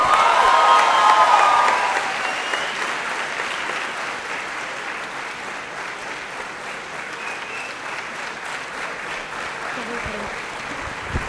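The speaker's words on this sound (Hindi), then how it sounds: "तालियां रुकनी नहीं चाहिए दोस्तों," A crowd's applause at a motivational event starts strong and then eases into a long, even clapping that carries on throughout.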